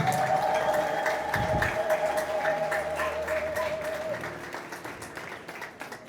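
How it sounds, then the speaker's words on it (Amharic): A church congregation at a deliverance service applauds loudly, a dense wash of clapping that fades gradually, with a few voices calling out inside the crowd noise. "ባካችሁ በደንብ አጨብጭቡ።"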